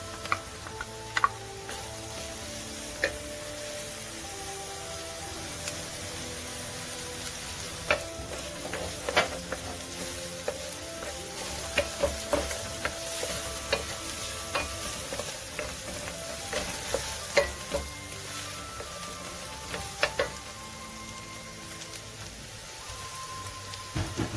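Garlic and shrimp fry in a pan over steady background sizzling, with frequent sharp clicks and clinks of a utensil against the pan as they are stirred, close and without speech.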